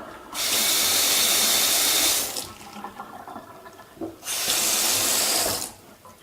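A kitchen sink faucet fitted with an Éco-Robi device runs in two loud bursts of rushing water, each about two seconds long, separated by a quieter pause.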